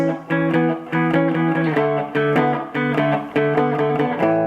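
Electric guitar working through a blues progression in A from the five chord, bright repeated chord strums in a steady rhythm, loud and close with no talking.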